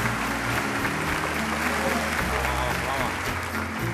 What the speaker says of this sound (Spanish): Se merece un aplauso preciosísimo